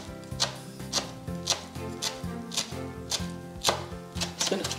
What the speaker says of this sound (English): we're going to go in with 2 tablespoons of freshly chopped cilantro. You could even use parsley if you wanted. Just going to chop that down fine.